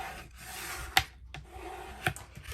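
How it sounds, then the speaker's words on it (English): Paper being burnished down by hand while making an Alice in Wonderland junk journal: soft, close rubbing strokes with two brief sharp ticks, quiet and alone. "I'm going to burnish this down."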